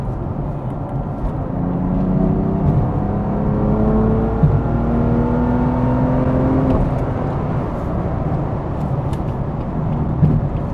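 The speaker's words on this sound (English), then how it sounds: "Yeah, you could barely hear an exhaust." A BMW F80 M3 engine with the stock exhaust idles and revs in a few smooth rising sweeps, the exhaust note muted and subdued, with a steady low rumble underneath.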